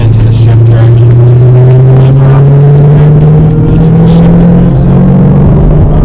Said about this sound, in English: So hopefully you can hear that supercharged sound.